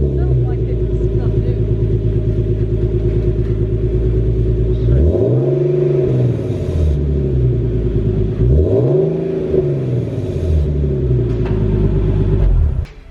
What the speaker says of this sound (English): So now we got that awesome Borla exhaust startup and Dylan out of the way.